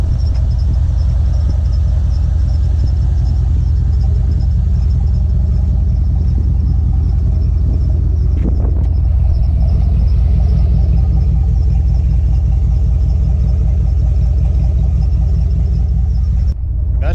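Steady low rumble of an LS-swapped OBS truck idling through a Summit-branded muffler, loud and continuous with a deep droning exhaust note and no change in pitch throughout.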